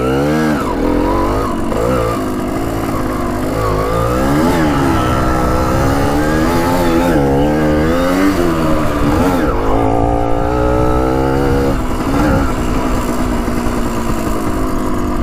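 Vintage Yamaha MX 175 dirt bike engine revving hard while riding, loud and close, its pitch rising and falling with throttle and gear changes throughout, with no talking.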